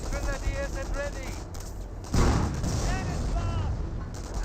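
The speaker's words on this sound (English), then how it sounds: "I heard artillery barrage, probably just an on-map artillery barrage" Artillery barrage in Company of Heroes, with several booming impacts, one heavy blast standing out midway, under game voice lines and ongoing battle noise.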